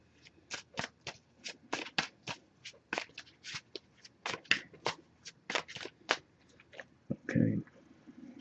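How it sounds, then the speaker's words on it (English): A Messages of Love Oracle card deck being hand-shuffled, a long series of sharp, crisp card slaps in an irregular rhythm, close and quiet, followed by a brief soft voice near the end. "we're going to give it a few more shuffles"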